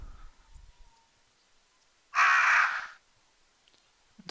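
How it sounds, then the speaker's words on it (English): A single harsh crow caw in a Resident Evil game, one loud drawn-out call standing alone against a near-silent background. "It's the sound of ominous murder in the form of crows."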